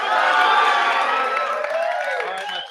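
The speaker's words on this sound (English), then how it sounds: "Give them a huge round of applause" Live studio audience at an Orlando event cheering and applauding loudly, a dense steady wash of crowd noise with whoops that holds throughout and tapers slightly at the end.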